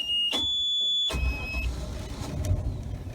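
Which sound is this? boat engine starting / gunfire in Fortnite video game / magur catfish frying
boat engine starting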